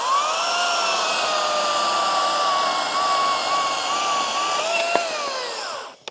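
A MOVA 60-volt cordless power tool runs at a steady high-pitched whine close by for several seconds, loud and continuous, then cuts off abruptly near the end.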